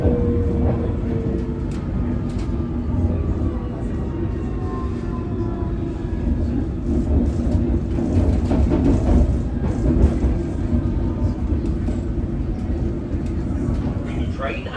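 A London Underground District line train runs toward Richmond with a steady low rumble and rattle of wheels on track, loud and continuous throughout, with faint squeals rising above the drone.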